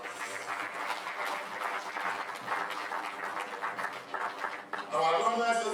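Applause at a university convocation ceremony, a broad steady patter of clapping from a large hall audience that carries on for several seconds before a voice comes in near the end.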